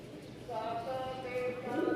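Giribaz pigeons of a green-colour variety coo softly nearby in a short, rolling call, with a person's voice audible underneath.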